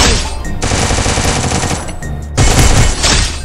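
Sustained automatic gunfire in the shooter game Free Fire, loud and dense bursts of rapid shots rattling continuously with brief gaps, no voices.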